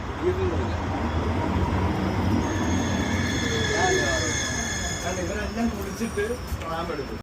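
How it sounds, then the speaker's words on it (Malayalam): A Munich, Germany tram rolls along its rails with a continuous close rumble and shrill, sustained wheel squeal, while people talk faintly underneath. "ട്രാം കയറാൻ"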